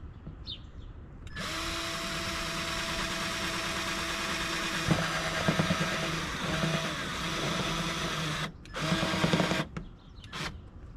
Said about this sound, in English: let's drill it.